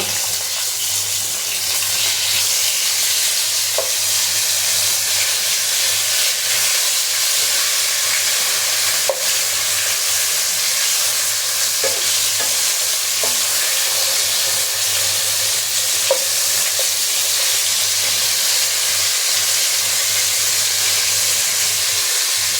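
Arabian Sea fish frying in a pan, a loud, steady hiss and sizzle that runs without letup, with a few faint clicks and no talking.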